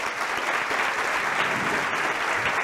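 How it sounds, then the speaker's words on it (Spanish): Audience applause at a talk, a steady, full wash of many hands clapping throughout with no speech over it. "Un aplauso"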